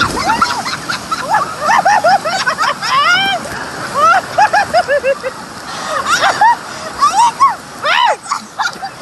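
Water splashes during a river drifting raft ride in Qingyuan, Guangzhou, China, with bursts of spray mixed under frequent excited shouts and high-pitched voices from nearby rafters.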